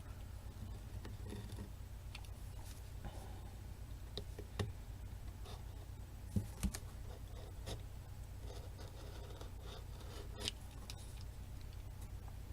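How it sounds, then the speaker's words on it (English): An X-Acto knife cutting thick leather along traced lines for a small revolver holster, soft scratchy scraping strokes with occasional sharp ticks, faint and close, no talking. "When you're cutting out your leather, you're going to want to use an X-Acto knife."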